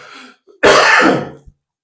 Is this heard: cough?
yes